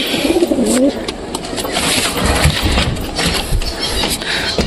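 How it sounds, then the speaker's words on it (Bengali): Pigeons in a loft coo with a soft repeated throaty warble near the start, set against steady broadband background noise and some low rumbling, with no talking. "তো বন্ধুরা চলো যাই দেখি তো কবুতরগুলো ডিম দিছে কিনা"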